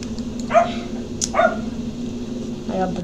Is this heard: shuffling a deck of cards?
no